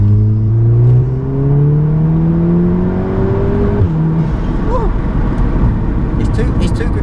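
Turbocharged VW Golf R tuned to about 380 bhp pulls hard under acceleration, the engine note rising steadily and then dropping as it shifts, heard from inside the car over road noise.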